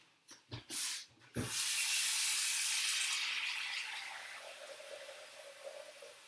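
Cold water runs from a tap into a saucepan for cooking spaghetti, a steady close rushing stream after a few brief clunks, slowly softening and rising in pitch as the pan fills.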